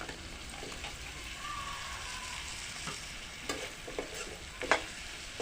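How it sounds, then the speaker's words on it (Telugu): Brinjal and potato pieces fry in a pan for a Telugu broad bean curry, a steady sizzle broken by a few scraping stirs of a spoon near the end, with no voices. "వంకాయలు వేసి మంచిగా కలిపి ఆలుగడ్డలు వేసుకోవాలి"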